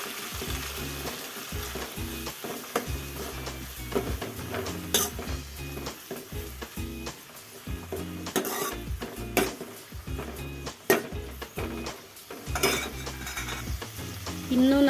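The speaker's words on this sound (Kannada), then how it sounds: "ಈಗ ತೊಳೆದು ಇಟ್ಕೊಂಡಿರೋವಂಥ ಮೆಂತ್ಯ ಸೊಪ್ಪನ್ನ ಹಾಕ್ತಾ ಇದ್ದೀನಿ" Washed fenugreek leaves sauté in oil on top of fried onions, sizzling steadily while a utensil stirs and scrapes the pan in frequent clinks throughout.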